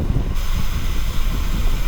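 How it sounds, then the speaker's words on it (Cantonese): Strong wind roars and buffets the microphone in a continuous, heavy rumble on a Yangmingshan mountain climb in Taiwan, during a rainy cycling ride, with no other sounds breaking through. "好大風啊！ 呢一座山應該係咁多座入面咧，6座入面最大風嘅嗰一座啊"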